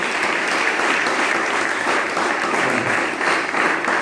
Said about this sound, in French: On applaudit mon Dieu plus fort pour ça